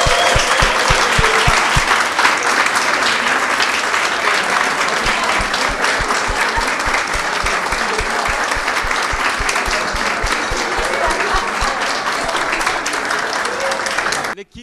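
A large audience at a camp meeting applauds the kitchen team in steady, dense clapping for about fourteen seconds, with rhythmic low thumps underneath, stopping abruptly at the end.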